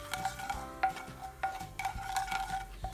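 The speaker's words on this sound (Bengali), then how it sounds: "ভালো করে নেড়েচেড়ে মিশিয়ে নেব।" A spoon stirs dry chili powder into a cooked lentil dish in a metal pot, giving close, light scrapes and clinks in an uneven rhythm over a quiet background, with no talking.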